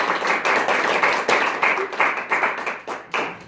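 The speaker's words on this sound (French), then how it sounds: "Et je veux qu'on applaudisse." Conference audience in Montreal clapping together, a dense burst of many hands applauding with uneven rhythmic surges, fairly close and loud.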